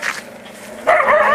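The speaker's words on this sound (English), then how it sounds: "Big German Shepherd." A big German Shepherd dog at an animal treatment day in Sri Lanka gives a short whimper, then a louder, sustained whining bark, close and clear with no talk.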